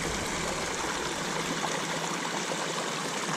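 A small river in a city park runs in a steady, full-bodied rush of flowing water that stays even and close from start to finish, with no voices.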